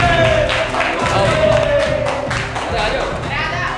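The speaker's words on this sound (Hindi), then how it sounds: "ताली बजाओ।" Applause and crowd noise from an audience at a village Ramlila performance, steady clapping mixed with murmuring voices that fills the whole stretch, with some thumps and a loud, close feel throughout.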